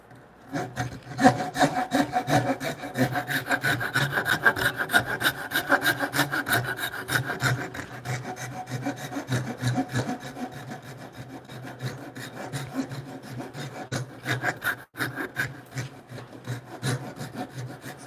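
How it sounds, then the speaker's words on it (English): A hand saw works wood for timber frame diagonal braces, alternating rip and cross cuts: steady rhythmic back-and-forth rasping strokes, close and continuous, no talk. "We're going to go back and forth between rip and cross cutting."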